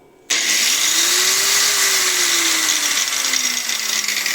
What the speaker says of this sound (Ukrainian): давайте подивимося, чи буде працювати в нас банально болгарка